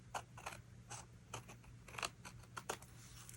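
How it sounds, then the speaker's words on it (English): Scissors snip through layered paper for a card background, a quiet series of short, crisp cuts in an irregular rhythm, close up, over a faint steady hum. "if you angle your scissors a little bit away, then you can cut the bottom layer underneath without cutting the top layer"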